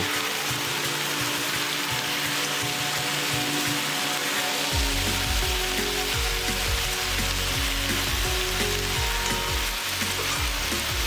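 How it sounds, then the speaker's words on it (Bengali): Pumpkin greens and potatoes frying in hot oil in a pan, a loud steady sizzle throughout, joined halfway by rhythmic scraping of a spatula as the mixture is stirred, with no talking. "এবারে দিয়ে দেবো কেটে রাখা শাক পাতা এবং আলু"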